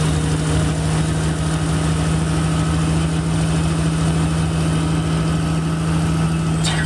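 A fully hydraulic dumper's engine idles in a steady, unbroken low drone with a constant hum, close and fairly loud, with no voices over it.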